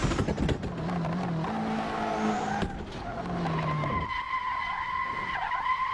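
A tuned Ferrari F40 in the Assetto Corsa racing game slides at full throttle, its tires squealing loudly over a droning engine, with long continuous skids that shift in pitch.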